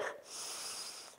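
A long, hissing inhalation through the nose during a yoga breathing exercise, steady and close for just over a second, with no speech.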